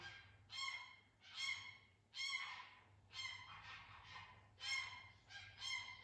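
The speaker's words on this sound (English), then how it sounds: "they're my geese. They're not elephants." A flock of geese honk in about eight loud, harsh bursts, some overlapping, over a low steady hum, with no talking.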